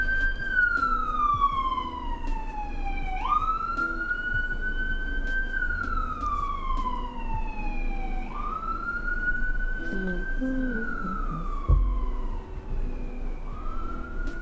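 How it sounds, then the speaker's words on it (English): A wailing siren rises and falls in long repeated sweeps, loud and steady against a low rumble of traffic. "sorry about the siren."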